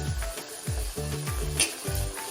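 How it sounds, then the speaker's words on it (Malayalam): Green chillies and curry leaves sauté in a pan while a beef and soya chunks peratt is being cooked, browning as they fry. A continuous sizzle with spattering crackles and a few stirring knocks runs close and clear throughout. "ഇത്രയൊക്കെ നന്നായിട്ട് വഴറ്റിയെടുക്കാം"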